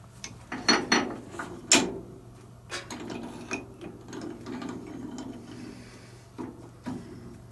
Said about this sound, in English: I'm going to bring our tailstock in.